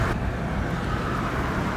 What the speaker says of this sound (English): Here's my last drive through the valley.